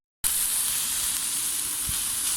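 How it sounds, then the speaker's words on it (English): Sliced pepper and mushrooms sizzle in hot oil mixed with garlic granules at a winter wild camp. A loud, steady frying hiss starts abruptly and carries on close and unbroken. "heat some oil up, mix some garlic granules in with it, and then start frying the pepper and the mushrooms"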